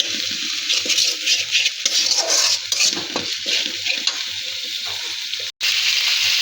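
Onion paste frying in oil reused from fried pangas fish for a curry, making a continuous hissing sizzle with light stirring, broken by a brief cut to silence near the end.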